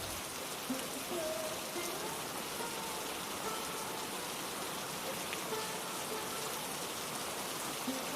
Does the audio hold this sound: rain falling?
yes